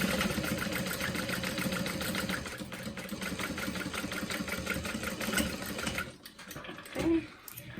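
A sewing machine runs steadily and loudly, stitching piping onto a Swoon Charlotte City Tote, with continuous mechanical whirring for about six seconds before stopping, followed by a brief soft handling noise.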